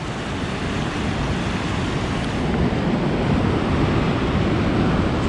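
The Orange River rushes past in a broad, continuous roar of churning water with standing waves, loud and close, with wind buffeting the microphone.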